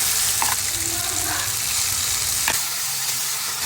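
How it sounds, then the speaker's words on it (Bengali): Garlic, onion and mashed vegetable bharta fry in hot oil with a loud, steady sizzle up close, broken by a couple of sharp stirring scrapes. "তারপর আমি সবগুলোকে একসাথে ভেজে নিচ্ছি।"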